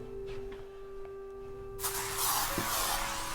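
An aerosol can labelled monster spray gives a sudden, loud, sustained hiss at close range, cutting in after a quiet stretch and continuing to the end.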